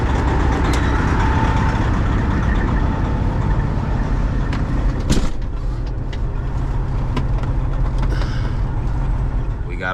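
A 300-inch-wheelbase Peterbilt truck with a newly replaced alternator idles loud and close in a steady, low rumble, with a brief clunk partway through.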